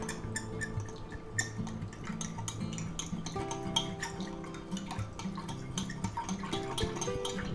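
Black pepper and red pepper flakes being mixed in a bowl: quick, steady clinks and scrapes of a utensil repeat throughout, soft and close, over a faint background hum with no talk.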